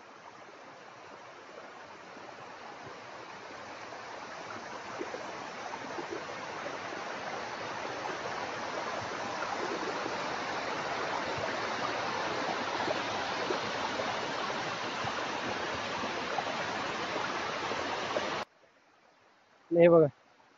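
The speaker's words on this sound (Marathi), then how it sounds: "तो तुमचा आहे धबधबा." The Gothe Khalati waterfall in Mandangad, Maharashtra, roars as a steady broadband rush of falling water for about eighteen seconds. It stops abruptly, followed by a brief close burst of sound.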